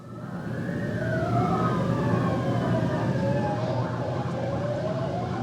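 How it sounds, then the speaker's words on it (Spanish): A police siren wails loudly through traffic, its rising and falling tone sweeping repeatedly over a rumbling street background, with no voices. "¿Cómo gozan los policías tocando su sirena?"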